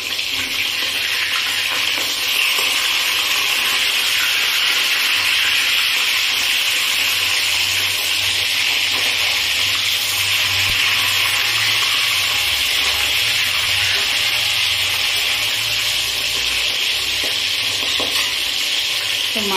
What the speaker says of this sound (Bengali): মাছগুলোকে আমি এবার উল্টে দেব।